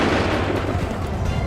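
Massed musket volley at the Battle of Bunker Hill in Assassin's Creed III, a loud, dense roar of gunfire and booming blasts that rolls on steadily and fills the whole moment without a break.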